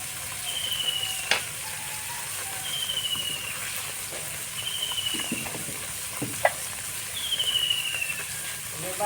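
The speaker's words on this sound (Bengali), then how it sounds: "আমাদের রান্না করতেছে মাছ ভাজি, উস্তা ভাজি" Fish, bitter gourd and drumstick leaves fry in a pan with a steady sizzling hiss, occasional stirring clinks and a repeated high bird-like chirp in the background, with no talk.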